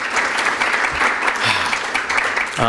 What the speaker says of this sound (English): A round of applause to all of you for the work that you do in the community.